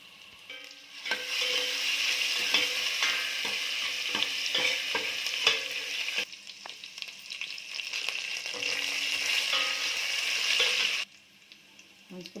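Chopped onions and mustard seeds fry in hot oil in a home kitchen pan, giving a loud, steady sizzle for about ten seconds with scattered stirring scrapes and clicks, then dropping off sharply near the end.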